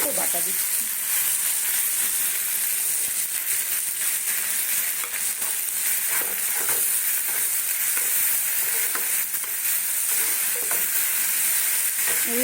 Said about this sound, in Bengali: কষাতে থাকি দেখো মশলাটা আমার কষানো হয়ে এসেছে